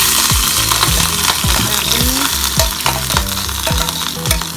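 Desi ghee heats in a pan while pasta is being cooked, giving a steady loud sizzle with a series of regular clattering knocks, like a utensil moving against the pan, throughout.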